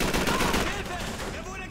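Gunfire in the WWII shooter Call of Duty 3 during a fuel plant battle at Autun. A dense, continuous barrage of rifle and machine-gun shots rattles loudly throughout.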